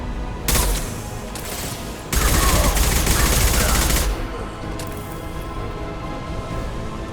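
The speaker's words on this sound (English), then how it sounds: "Firing concussive shot!" Concussive shot firing in Mass Effect 2 Legendary Edition, a short burst of blasting followed by a longer loud stretch of weapon fire, with continuous combat noise behind it.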